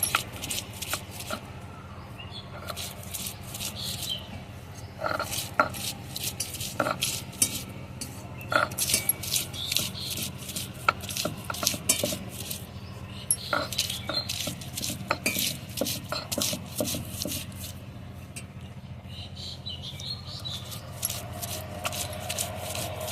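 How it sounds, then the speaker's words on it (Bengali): Onion ground into paste on a traditional grinding stone in a village kitchen: continuous, close scraping and grinding with a rough, repetitive rhythm and frequent clicks of stone on stone, no voices. "এখন পেঁয়াজটা বেটে নেব।"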